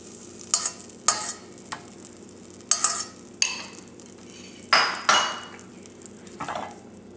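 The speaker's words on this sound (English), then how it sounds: "Let the butter melt." A pan of butter melting on a stove at medium heat, with scattered scrapes and stirring clatters of a utensil against the pan, each followed by a brief sizzle, over a low background hum.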